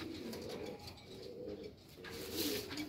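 Pigeons kept for breeding give soft, low cooing in a steady murmur close by, with faint chirps over it and no talk.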